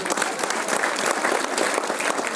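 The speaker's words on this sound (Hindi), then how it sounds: "एक बार जोरदार ताली।" Loud, dense clapping from the audience at a mind power training session, a short steady burst of applause without pause.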